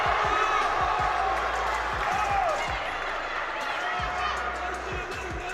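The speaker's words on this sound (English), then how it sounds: "I've certainly got a lot of noise behind me from the crowd" Crowd noise fills the hall at a European para-armwrestling championship final, a steady, dense roar of voices with scattered shouts and thumps that stays loud throughout.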